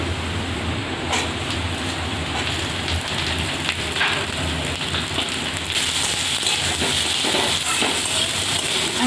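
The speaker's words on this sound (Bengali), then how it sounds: "আলুর সাথে পেঁয়াজটাও আমি হালকা ভেজে নিলাম" Onions and potatoes fry in hot oil, giving a steady, dense sizzle that crackles without pause throughout, close and loud, with no talking.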